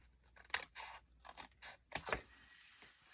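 Scissors snip and trim a piece of paper for a folded tuck spot, giving a few separate, fairly close cutting bursts with short pauses between them and no voice.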